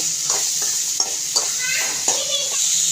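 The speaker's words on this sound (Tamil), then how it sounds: "இந்த எண்ணெயிலே கொஞ்சம் நேரம் நல்லா வணக்கி விடணும்" Vegetables for a quick veg kurma sauté in hot oil on high heat, a bright continuous sizzle close by, broken by a few soft stirring scrapes of a spoon in the pan.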